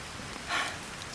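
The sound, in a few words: heavy rain on Mount Salak hiking trail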